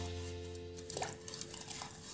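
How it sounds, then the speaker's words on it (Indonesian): Batter being stirred in a bowl for a dark chocolate mixture, a spoon scraping and tapping the sides in a steady, close run of soft clinks with a low kitchen hum underneath. "Lalu aduk lagi adonan hingga tercampur rata."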